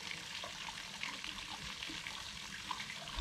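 Water runs steadily from a tap, a continuous close hiss and splash with no break, and no talk over it.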